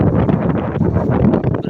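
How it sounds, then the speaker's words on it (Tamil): Strong morning wind gusting ahead of an approaching storm, a loud, continuous broadband roar buffeting the microphone with no pauses. "காலையிலேயே காற்று வீசுது"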